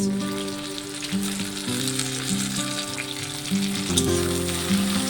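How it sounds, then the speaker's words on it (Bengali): Shrimp frying in a pan with onion and green chilli; a dense, continuous crackling sizzle runs throughout at close range, with a gentle musical tune playing underneath. "মাছটাকে দিয়ে একটু ভেজে নেব, পেঁয়াজের সাথে মাছটাকে একটু ভেজে নেব।"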